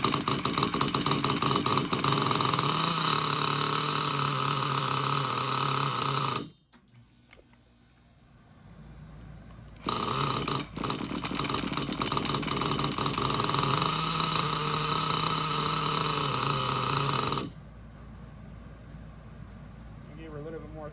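A Losi Aftershock nitro RC truck engine, rebuilt from an eBay box buy, idles with a loud, buzzing two-stroke drone, cuts out into a quiet gap of a few seconds, then restarts and idles again before stopping, while someone talks nearby.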